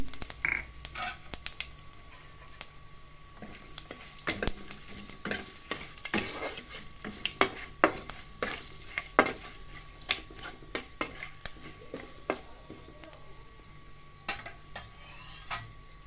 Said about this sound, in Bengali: এবারে দিচ্ছি ফোড়নে পাঁচ পাঁচ ফোড়ন শুকনো লঙ্কা আর তেজপাতা আর দিচ্ছি জিরে